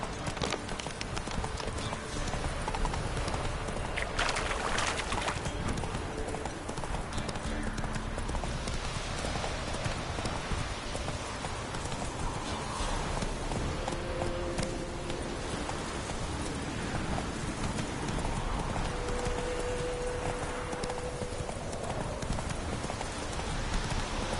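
Hooves of the horse Roach clip-clop steadily in The Witcher 3, a continuous rhythmic plodding under a rain-like hiss, with a brief whinny and spoken voices at times.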